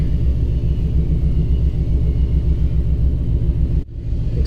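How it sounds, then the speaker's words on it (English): Road traffic rumbles past steadily and fairly close, a low continuous wash of car engines and tires that dips briefly near the end before resuming. "Traffic."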